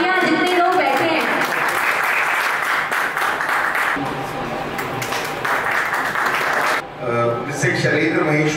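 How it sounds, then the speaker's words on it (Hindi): Sustained applause from an audience at an award ceremony, loud and continuous for several seconds, with a brief dip near the end before clapping resumes. "जोरदार तालियां जितने लोग बैठे हैं।"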